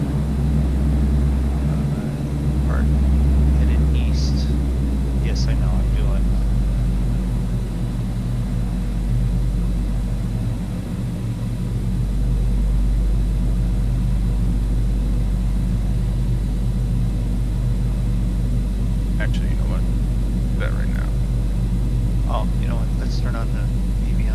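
An aircraft engine drones steadily from outside the cockpit in the Prepar3D v4 flight simulator, a constant low hum with a brief swell, while a person talks over it.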